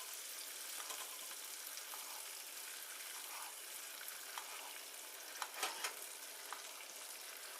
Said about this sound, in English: Melt that butter down, just like so, and baste your steak.